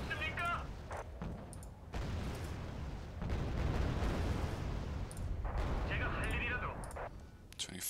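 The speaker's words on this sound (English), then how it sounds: "That's another artillery unit." Artillery fire in the video game Wargame Red Dragon: a continuous, loud rumble of distant guns and explosions with sharper bursts near the start and end, under intermittent radio-style voices and game chatter.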